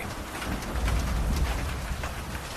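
Heavy rain from an April Kalbaishakhi thunderstorm pours down around a village tea stall, a dense, loud, unbroken hiss that fills the whole moment with no talking.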